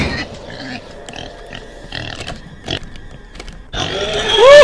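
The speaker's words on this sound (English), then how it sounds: "It's a demon pig." A demon pig in the Roblox horror game The Butchery gives rough grunts and oinks, intermittent at first and then swelling into a loud close squeal at the end.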